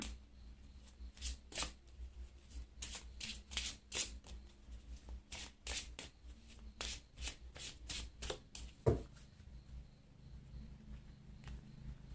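Oracle cards are shuffled by hand in a run of quick, soft riffling bursts repeating in an irregular rhythm, close and quiet, with no speech.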